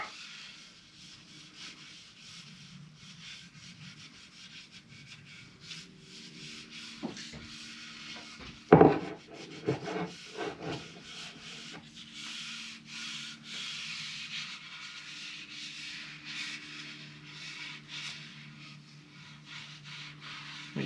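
A cloth wipes oil into a wooden surface with steady, continuous rubbing strokes, close and moderately loud, with a few sharper knocks and handling bumps partway through.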